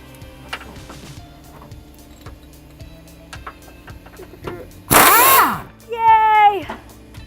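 A power tool drives a bolt on a Trans Am sway bar in a garage: one loud, short burst of whirring, then a second rising, whining spin, with quiet clicks and shop noise around it.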